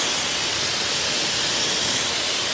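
A pressure washer sprays through a new nozzle assembly, producing a loud, steady hiss of water and air from start to finish with no speech.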